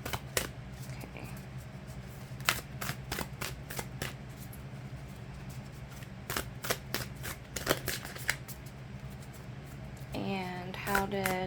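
Thick tarot cards being shuffled by hand at close range, a quick irregular series of crisp riffles and snaps, with a voice briefly heard near the end.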